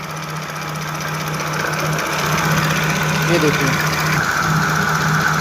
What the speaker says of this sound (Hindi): देखो, अब ये वाइब्रेट कर रहा है इंजन